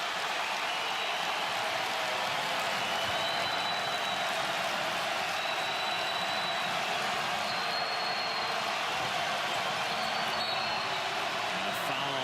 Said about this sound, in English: The tip jam by Shaq Dorson. Lights a fire under this crowd.